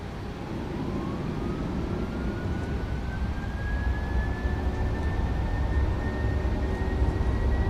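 A Boeing 737 rolls for takeoff in a flight simulator at steady high thrust. The engines give a loud broadband roar with a rising whine that climbs gradually and holds, and nobody speaks.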